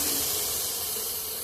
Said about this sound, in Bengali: চাটনির টমেটোটা আর রসুন আর লঙ্কাটা আমি একটু ভেজে নিলাম